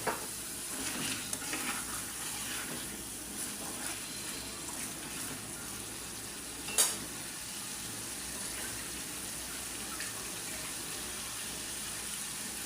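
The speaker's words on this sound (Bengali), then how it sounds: "এখন ডিমগুলো আমি দিয়ে আর একটু কষায় নিব।" Eggs being stir-fried in a pan with cardamom, a steady low sizzle and stirring scrape running throughout with one sharp clink near the middle, no voices.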